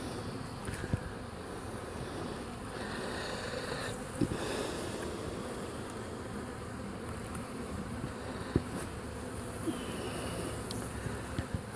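Honeybees buzz steadily around a hive after a storm, a dense close-up drone with occasional small knocks and ticks rising briefly above it.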